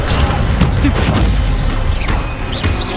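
Stupefy spell cast in Hogwarts Legacy combat, a loud burst of booming magical impacts and crashes layered with whooshing effects, dense and continuous throughout.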